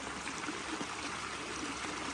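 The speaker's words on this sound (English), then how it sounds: "Look at that water coming out of there." Storm runoff flowing out at the foot of a hill near a freshly excavated pond bottom, a steady broadband rushing and trickling stream, close and continuous with no voices.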